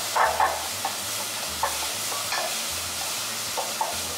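Onions and spices stir-fry slowly over low heat in a pan, a steady soft sizzle broken by repeated scraping stirs of the utensil, close and alone with no talk.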